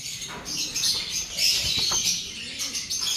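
Small birds chirp and tweet in short, high, repeated calls, fairly close, over a steady background of outdoor noise, with no talking.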